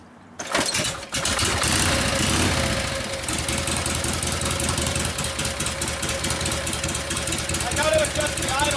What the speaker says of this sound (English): adjust the idle so it can warm up again